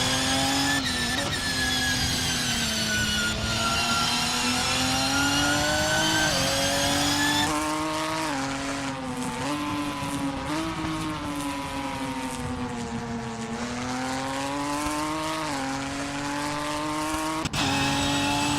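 A Ginetta G55 race car in Assetto Corsa laps Knockhill, its engine note rising and falling steadily through gear changes for the whole stretch, loud and close, with brief shifts and tyre scrub through corners.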